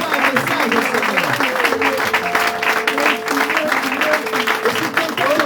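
A church congregation claps steadily and continuously during a worship service, loud and sustained, with voices and a sung tone rising under the applause.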